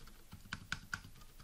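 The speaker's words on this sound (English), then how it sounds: "I've also got a new keyboard. Sounds super crazy." Keys clacking on a new gaming PC keyboard, a few distinct crisp strokes in a quick, slightly uneven rhythm, close and fairly quiet with no talking.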